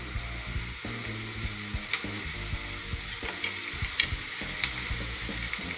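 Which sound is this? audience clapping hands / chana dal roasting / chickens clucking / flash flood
chana dal roasting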